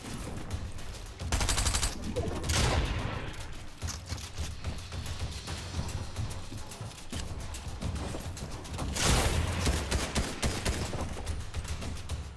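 Rapid bursts of gunfire from a Fortnite Chapter 3 match crackle almost continuously, with dense repeated shots and swelling volleys throughout and no voices.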